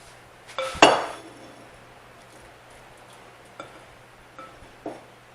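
Dip being spooned into small bowls, starting with a loud clatter of dishes near the start, then a few lighter clinks of spoon against bowl spaced apart in a quiet kitchen.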